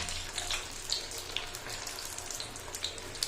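Potato and semolina finger chips frying in hot oil, a steady crackling sizzle with scattered sharper pops, moderately loud and without any speech.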